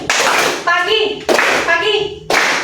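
Schoolchildren clap in a classroom call-and-response game: three sharp, loud bursts of group clapping, each followed by a voice calling out the next cue.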